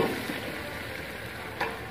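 Potatoes and cumin fry in a pan with a soft, even sizzle, fairly faint, with one brief stirring scrape near the end and no talking.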